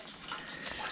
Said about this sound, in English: Water's running.